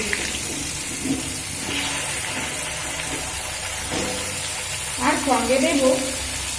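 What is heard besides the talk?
cut potatoes added to hot oil with cumin and dried chili, frying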